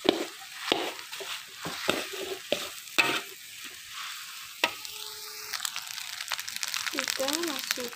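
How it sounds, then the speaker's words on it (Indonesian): Spicy Javanese fried rice being stirred in a frying pan, with repeated spatula scrapes and a steady sizzle throughout, close and moderately loud; a voice speaks briefly toward the end. "aduk ya sampai rata."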